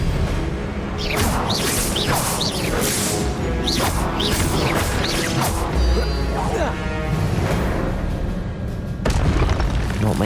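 Repeated Confringo spell blasts in Hogwarts Legacy on Nintendo Switch boom and crash one after another amid whooshing casts and combat noise, loud and continuous, with a voice shouting spell names over them.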